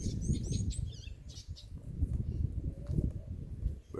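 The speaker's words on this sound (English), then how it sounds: "Birds singing." Birds chirp and sing at sunrise among trees in the wind, with short bright calls scattered over a steady low rumble of wind and rustling.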